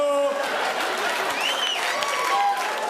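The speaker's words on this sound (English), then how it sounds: "all the people that are clapping have smart kids" Audience applause and clapping at a live comedy birthday show, a steady dense patter of many hands, fairly loud and continuous, with a voice talking over it briefly.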